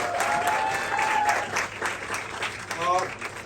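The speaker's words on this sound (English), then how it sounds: "Can we have a huge round of applause for these young masterminds?" Audience applause at a song launch event, steady clapping from a crowd with a voice speaking over it and brief tonal sounds, fairly close and moderately loud throughout.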